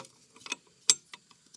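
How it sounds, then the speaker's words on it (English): An AK rifle gas tube drops into place with a few light metallic clicks and one sharper clack, close and quiet, with no talk. "All you have to do now is drop the gas tube."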